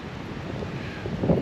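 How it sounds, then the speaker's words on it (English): Wind gusting across an outdoor spring bear hunting site in Ontario, a steady broad rush that builds slightly toward the end, with no talk. "we're going to settle in here for a long sit and hope this wind dies down"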